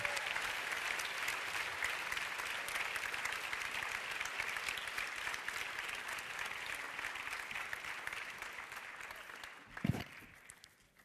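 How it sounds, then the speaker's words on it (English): Audience applause for director Mati Diop at a film award event, a dense, sustained round of clapping from a large crowd lasting about ten seconds before fading, with a short thump near the end. "May we have a big round of applause, everyone, for Mati Diop."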